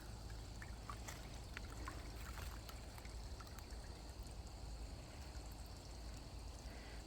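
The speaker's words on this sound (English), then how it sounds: "it's nice to walk along here and listening to the water flowing by" A small stream trickles beside a hiking path at Landon's Bay Park near the Thousand Islands Bridge in Ontario, a soft, continuous burble with scattered light splashes, faint and steady with no talk.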